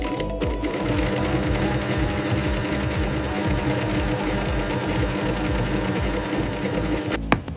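A sewing machine stitches crocodile leather with thick thread, whirring in a fast, steady mechanical rattle that runs loud and unbroken for several seconds, then stops abruptly near the end.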